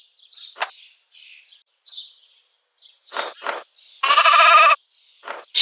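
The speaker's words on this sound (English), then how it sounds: "sheep" A sheep bleat from a children's educational game about finding animals: one loud, wavering bleat stands out after a scattering of short chirps and clicks, with brief soft sounds trailing after it.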